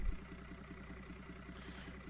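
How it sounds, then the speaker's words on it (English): Tractor engine in the Farming Simulator 19 game running at a steady low drone, with a continuous rumbling pulse that stays constant throughout, no voices. "the tractor is loud to me"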